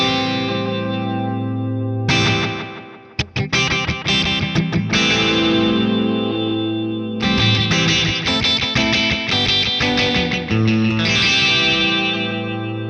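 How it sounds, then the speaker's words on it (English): Electric guitar played through a Wampler Catacombs delay/reverb pedal set to delay, chords and picked phrases trailing off into repeating echoes, loud and close with brief gaps between bursts. "So that's the delay dialed in."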